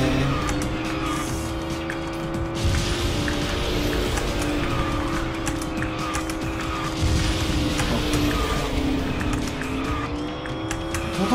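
Continuous engine whine of a kart speeding up in the racing game KartRider, loud and steady with rising and shifting tones and tire-skid noise, no talking.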